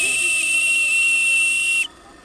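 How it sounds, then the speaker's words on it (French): A radio-controlled model steam launch sounds its steam whistle: one sustained, shrill, steady tone with a breathy hiss, loud and close, cutting off abruptly near the end. "Petit coup de sifflet par le manche de droite en bas."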